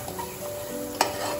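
Spices cooking for biryani in a pan give a steady, moderately quiet sizzle with light stirring scrapes and one brief clink near the end.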